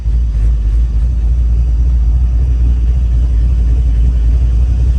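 Car with a freshly swapped brake booster and master cylinder on a test drive, its engine a steady low rumble throughout, close and loud with no talk.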